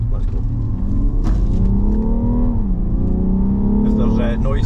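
Alpina D3 S or BMW M340d accelerating, a deep engine rumble rising in pitch as it pulls, heard from inside the cabin with a person talking over it.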